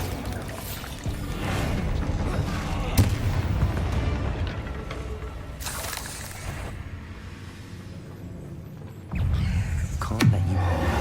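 Explosive blasts from the Bombarda spell in Hogwarts Legacy, heavy booming impacts with rumbling debris over a dense game soundscape, a sharp burst near the start and another loud hit toward the end.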